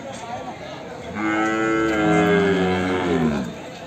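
Buffalo lowing loudly at a Sunday livestock market where buffaloes are sold, one long drawn-out moo in the foreground over a low crowd murmur.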